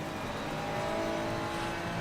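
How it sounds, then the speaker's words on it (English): A race car approaches in a racing simulator game at Spa, its engine a steady, loud drone with a faint tonal whine throughout and no speech over it. "One car coming."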